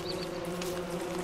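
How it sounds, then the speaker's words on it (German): Bees swarming in the survival video game Don't Starve, a steady, dense buzzing drone that holds at an even level throughout with no talk over it. "So, jetzt treiben wir ihn in die Bienen rein."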